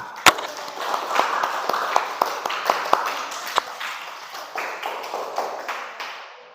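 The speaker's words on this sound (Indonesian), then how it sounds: "Beri tepuk tangan" Classroom students clapping after a science class presentation, a sparse scattering of a few hands with distinct separate claps that thin out and fade toward the end.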